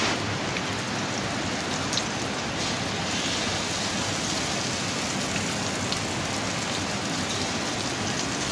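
Heavy rain pouring down in a steady, loud, unbroken roar of dense drops hitting surfaces, with no voices over it.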